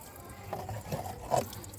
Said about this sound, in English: I'm opening the tap and you can take water from there.